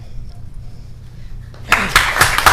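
A school board meeting audience breaks into applause, a dense patter of clapping that starts after a quiet moment and carries on loudly to the end.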